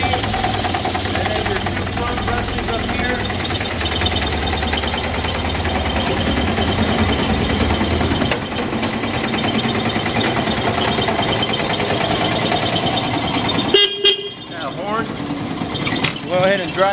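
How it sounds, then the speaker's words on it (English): An Alto American Lincoln 114RS ride-on floor vacuum sweeper runs with its main brush turning, a loud steady motor drone that shifts and stutters near the end, with a voice talking over it. "Here we have an American Lincoln ride-on sweeper. I'm gonna turn it on"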